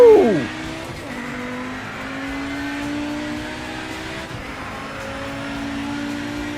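Old race car in Project Motor Racing, its engine dropping sharply in pitch at the start, then droning steadily as the car runs on, loud and close throughout with a faint tire note beneath.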